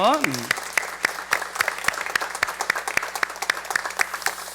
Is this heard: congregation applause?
yes